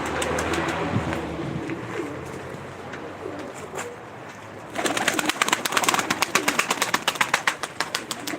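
Pet pigeons coo close by in a loft, their soft repeated calls layered over one another and growing denser and louder in the second half.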